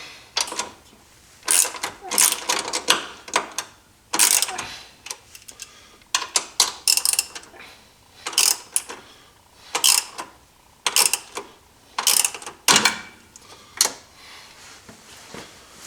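A ratchet tightens bolts while fitting a hitch to a Polaris Sportsman 570 quad, giving repeated short bursts of close, sharp clicking separated by brief pauses.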